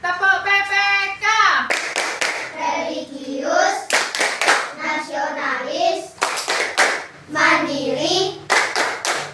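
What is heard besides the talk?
children doing the PPK clapping routine in class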